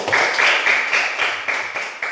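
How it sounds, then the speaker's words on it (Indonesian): Elementary school pupils in a classroom clapping for a classmate's answer, a brief burst of rhythmic group claps at moderate volume with light voices mixed in. "Ya, berikan tepuk tangan."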